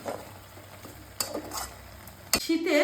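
Scallion curry with freshly chopped coriander leaves being stirred in a pan, giving soft scraping and a few clinks of a spoon against metal, with a brief burst of talk near the end.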